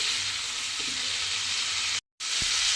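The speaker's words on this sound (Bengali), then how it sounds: "এই সবজিটার সঙ্গে মশলাটা একসঙ্গে ভালোভাবে কষিয়ে নিতে হবে" Vegetables with spice paste sizzle steadily in a hot pan for a Bengali drumstick, potato and prawn curry, an even frying hiss broken by a brief silence and a faint stir knock.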